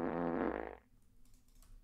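A loud fart sound effect stretched and looped to mimic a revving car engine, a sustained buzzy blast for under a second that cuts off, followed by faint low noise.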